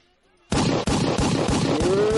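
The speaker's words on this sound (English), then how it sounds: "not gonna play the gunshots" Loud, dense burst of shotgun gunfire sound effects played during a talk show, a sustained rapid barrage of blasts with brief dips, starting after half a second of near silence.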